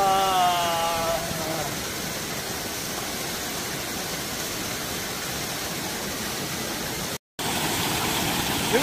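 Waterfall at Bonggwang Valley in Gwangyang, a steady, loud broadband rush of falling water filling the whole clip, with a brief dropout near the end.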